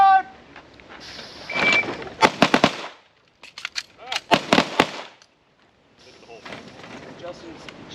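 Sharp gunshots from shooters in firearms instructor training on a range, fired in quick bursts of several rapid cracks, then a pause and another fast string, with voices talking between volleys.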